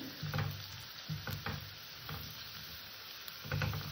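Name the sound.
frying beans in a pan for pasta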